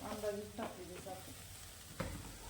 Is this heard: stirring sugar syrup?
yes